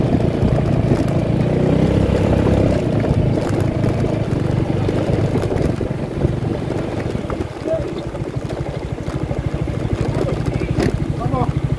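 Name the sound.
Yamaha XMAX 250 scooter riding on rocky road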